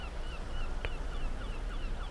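Seagulls call at a beach, several short honking cries repeating over a constant wash of surf, moderately distant.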